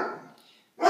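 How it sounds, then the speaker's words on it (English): Pet dogs let out sharp, loud barks up close: one fading bark, a brief silence, then another bark. "Why are my dogs barking?"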